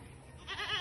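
A single wavering goat bleat rises after a moment of quiet outdoor background, moderately loud and fairly close.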